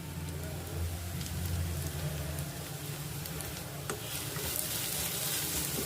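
Onions cooked soft in a pan fry with added salt and turmeric, giving a steady, even crackling sizzle like light rain, with occasional faint stirring clicks, close and unbroken throughout.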